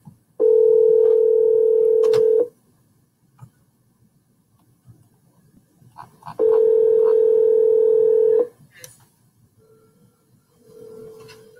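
Two long ringback tones on an outgoing telephone call, each lasting about two seconds and separated by a pause, loud and clear over a faint background hum.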